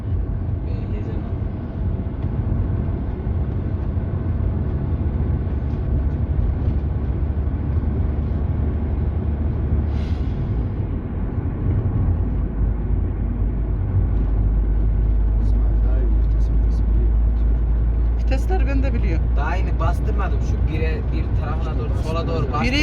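A car engine idles and runs steadily with a low, continuous rumble throughout, while people talk nearby and a few brief clatters occur toward the end.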